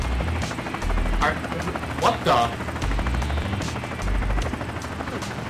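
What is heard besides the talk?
helicopter in the video game The Escapists 2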